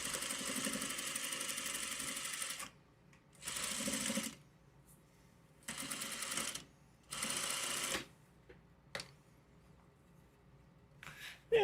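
Sewing machine stitching down a fabric strap about an eighth of an inch from the edge, running in four bursts of steady rapid whirring, each a second or two long, separated by quiet pauses, close and clear.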